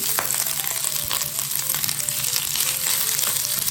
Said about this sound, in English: we're going to roast our corn